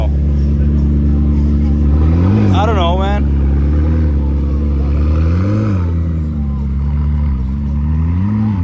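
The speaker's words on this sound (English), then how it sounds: "P1 GTR heading out." A McLaren P1 GTR race car engine roars loudly and revs up as it pulls away, with someone talking over the noise.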